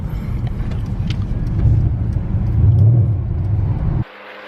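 A Mercedes SLS AMG cruising close by gives a steady low engine rumble that swells slightly midway, then cuts off abruptly near the end, leaving a quieter background.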